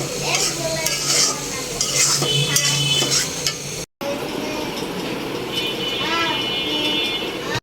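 A spoon stirs sugar into a strained homemade sherbet drink with steady swirling and light repeated clinks against the glass or jug, with voices in the background.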